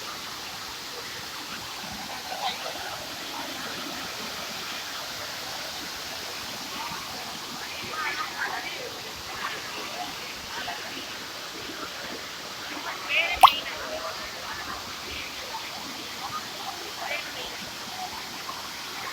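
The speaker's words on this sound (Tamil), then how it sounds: "அருவியில் நல்லா தண்ணி வருது மெயின் அருவியில் மெயின் பால்ஸில் அனைவரும் பாருங்கள்" Steady broadband rush of water pouring down the main waterfall at Courtallam, a continuous even roar with one brief sharp knock partway through and no clear talk.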